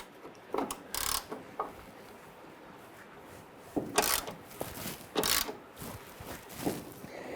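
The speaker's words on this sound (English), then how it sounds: "I'm going to loosen it to the point where the nut is at the end of the stud itself or the bolt." A ratchet wrench loosens a front lower control arm nut on a 1994-2004 Ford Mustang, giving short bursts of quick metallic clicking separated by pauses, close and clear.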